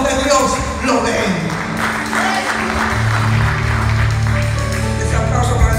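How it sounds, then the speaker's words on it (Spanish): Applause at a church service, clapping spread through a congregation and mixed with a sustained organ or keyboard tone and some voices. "Ese aplauso para el Señor"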